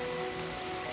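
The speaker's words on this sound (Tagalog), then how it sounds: "umuulan kasi" Steady rain patters on a muddy mountain hiking trail on Mt. Sembrano, a continuous close hiss of drops with no voices.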